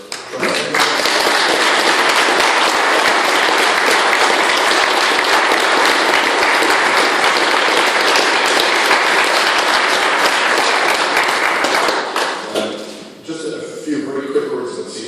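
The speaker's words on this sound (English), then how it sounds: "she just needs a round of applause all around" Sustained round of applause from an audience at a charity fundraiser for cancer research, loud and dense clapping for about twelve seconds before fading into murmuring.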